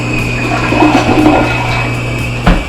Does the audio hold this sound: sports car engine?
no